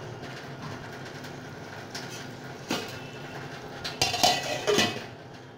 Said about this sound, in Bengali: এখন আমি ঢাকনাটা খুলে দিয়েছি